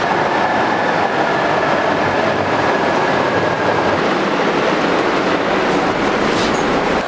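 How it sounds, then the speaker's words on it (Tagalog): An MRT metro train rumbles past close by with a loud, steady roar and rattling of wheels on the rails. A faint high whine is heard during the first half, and no one speaks. "nag-aabang lang ako ng MRT"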